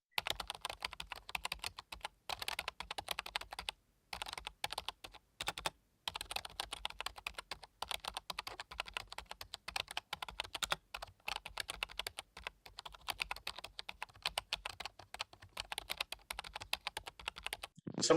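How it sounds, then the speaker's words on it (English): Rapid, continuous typing on a computer keyboard comes through an open microphone during an online call, with dense irregular key clatter and brief pauses, close and fairly quiet. "That's because he's typing."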